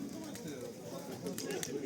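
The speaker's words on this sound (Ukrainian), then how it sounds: "Голуби прилетіли, прилетіли." Soft pigeon coos murmur under a person talking nearby, low and muffled against quiet background noise.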